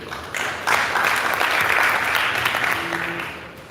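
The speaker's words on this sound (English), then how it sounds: "So please clap for this one again." Audience applause at a Wikipedia conference session in Nigeria, a sudden swell of clapping from a moderate crowd that holds steady, then tapers off near the end.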